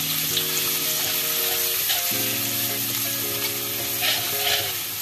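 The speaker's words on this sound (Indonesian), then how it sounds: "Kita goreng guys" Garlic and shallots fry in a pan with a loud, steady sizzle that runs unbroken from start to finish, with soft music playing in the background.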